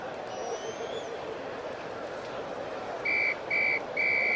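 A referee's whistle in an NBA basketball video game sounds as three short, shrill blasts close together near the end, over a low arena crowd murmur.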